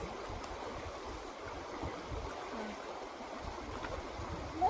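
A village river flows past as a steady, soft, even rushing murmur, fairly faint and unbroken, with no speech.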